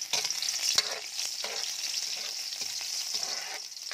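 Garlic fries in a pan with a constant bright sizzle, broken by soft scraping and stirring knocks of a utensil, close and steady with no voices.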